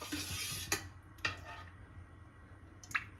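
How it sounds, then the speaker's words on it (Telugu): A metal kadai set down on a stove to heat oil for prawn curry gives a few separate clanks and knocks, faint and spaced apart, against a low kitchen hum. "ఫస్ట్ ఒక బాండి పెట్టుకొని ఆయిల్ వేసుకుందాం."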